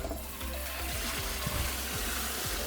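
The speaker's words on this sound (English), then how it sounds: "So let's get this all rinsed out." Running water rinses freshly printed 3D resin parts in a sink, a steady close rush with repeated soft splashes and knocks as the pieces are handled under the stream.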